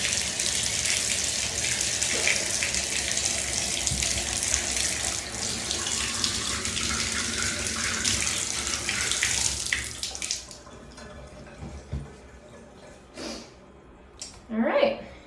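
Water runs steadily from a Moen shower faucet fitted with a new replacement cartridge, a loud broadband rush for about ten seconds before it cuts off, leaving quiet room tone with a few brief splashes and drips.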